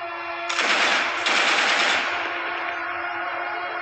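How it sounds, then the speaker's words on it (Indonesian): A loud burst of rapid machine-gun fire, a second volley right after, then a lingering echoing rumble as it fades; a sound effect. "lalu diberondong dengan tembakan"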